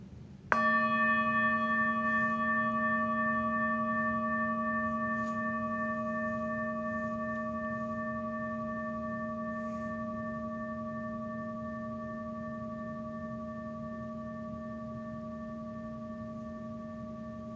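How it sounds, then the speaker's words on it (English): A meditation bell is struck once and rings out with a pure, sustained tone that fades very slowly over many seconds in a quiet room. "And now I'll sound the bell and I'll start to guide us through the practice."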